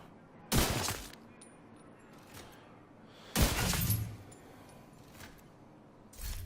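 Gunfire in The Division 2, with three loud bursts of rapid shots spaced a few seconds apart, each a sharp crackling volley with a brief ringing tail, punchy and close.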